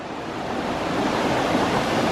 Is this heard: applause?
no